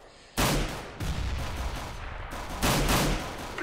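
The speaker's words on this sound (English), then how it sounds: "he's kind of firing pretty quickly" Rapid bursts of gunfire in Counter-Strike: Global Offensive, loud and close, arriving in three dense volleys separated by brief gaps, with no talk over them.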